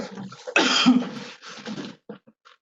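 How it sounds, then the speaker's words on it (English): A person coughs several times in quick succession, a harsh burst followed by smaller throat-clearing coughs, close and alone. "Someone is coughing."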